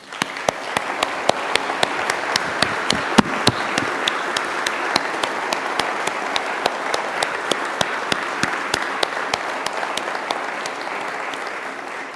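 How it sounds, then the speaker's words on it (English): Mourners at a memorial service applaud the nurses, a long steady stretch of clapping with individual sharp claps standing out near the front. "at this time to applaud our nurses"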